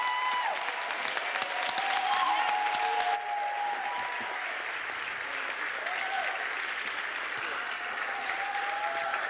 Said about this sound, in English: Could we please just have a special round of applause for the students who spoke tonight?